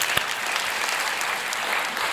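A church congregation gives a dense, sustained round of applause, many hands clapping together at steady loudness with no voices standing out.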